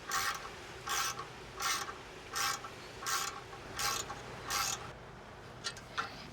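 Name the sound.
Allen wrench tightening RV step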